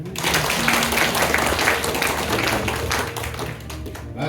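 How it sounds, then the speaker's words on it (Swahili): An audience at a church faith retreat in Mtwara claps together in a dense, steady burst of applause that fills the whole stretch, loud and close, with no speech on top. "Hebu tupige makofi."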